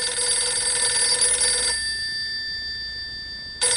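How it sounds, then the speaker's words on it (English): A telephone in a hotel room rings with a bright electronic trill that stops partway through, leaves a short quiet gap, then starts again, loud and close. "My phone in the hotel room rings"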